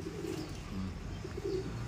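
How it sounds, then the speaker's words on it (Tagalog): Pet pigeons coo in low, soft repeated phrases close by, a quiet throaty murmur from birds lingering on a loft. "ito na yung mga pasaway nating ibon na matagal bumaba talaga"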